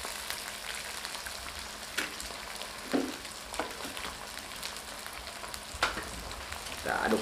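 Fried rice with jengkol sizzles in a pan while being stir-fried, steady frying crackle broken by irregular scraping and clanking stirs of the spatula.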